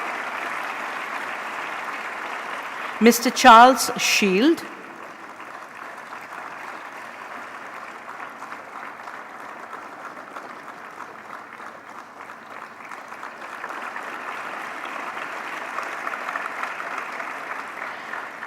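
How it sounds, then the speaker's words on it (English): Audience applause at an award ceremony, a soft, steady patter running underneath throughout, briefly interrupted by a man announcing a name over a loudspeaker. "Big round of applause"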